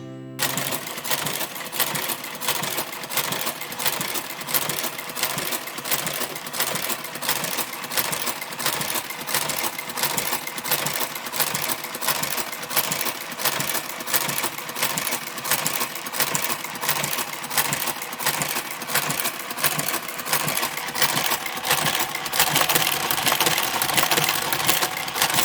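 A knitting machine's robot carriage knits two-colour plated fabric, giving off a fast, steady mechanical clatter of rapid even clicks that runs loud and unbroken throughout, with no talk.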